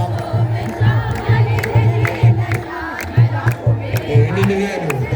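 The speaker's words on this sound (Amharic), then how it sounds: "እልል እያለ እግዚአብሔርን ማመስገን ነው" A church congregation ululates in praise with loud, rhythmic, trilling bursts. The voices are close and blend into a continuous crowd sound.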